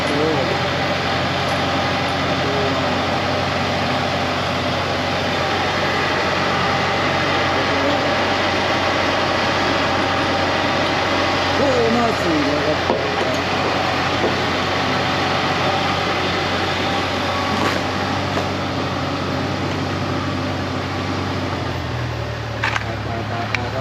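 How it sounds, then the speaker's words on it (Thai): Backhoe (Makro) diesel engine running steadily while the machine lifts itself on its wheels, a loud continuous mechanical drone with someone talking over it, dropping in pitch near the end. "นี่แมกโคยกล้อ"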